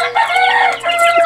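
Young pullets cluck and chirp in a brief, loud, close burst of overlapping calls.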